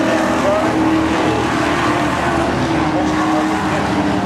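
NASCAR race trucks roar into a corner together at Seekonk Speedway on opening day, a loud, dense, sustained engine drone from several trucks close by with no pause.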